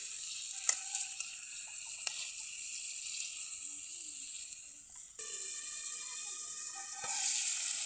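Meat and potatoes fry together in a pot over an outdoor picnic cooking fire, giving a steady close sizzle and hiss throughout with faint stirring knocks.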